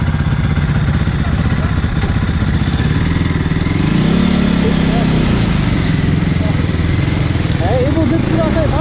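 An ATV engine, a Suzuki KingQuad sport quad off-road, drones loudly and continuously at close range with a brief rise in pitch, while people talk over it.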